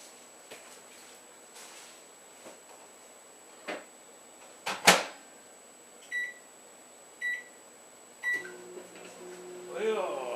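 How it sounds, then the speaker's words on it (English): A household microwave oven holds two ears of corn on the cob, still in their husks, on a plate. A keypad beeps a few times and a door thumps shut, then a steady cooking hum starts near the end. "we're going to cook these 2 ears of corn in the microwave with the shucks on them"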